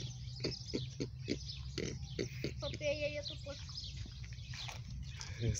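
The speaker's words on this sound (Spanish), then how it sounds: "Dice que es un puerco de Vietnam." A Vietnamese pot-bellied pig at a zoo gives a run of short, low rhythmic grunts at close range, mixed with people talking nearby and some bird-like chirps in the background.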